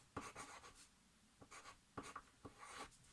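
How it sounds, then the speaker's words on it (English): Pencil tracing a design onto scrap paper for a hand-embroidered cotton T-shirt, heard as quiet, close scratchy strokes in short bursts with brief pauses between them. "Just going to trace it through onto a piece of scrap paper."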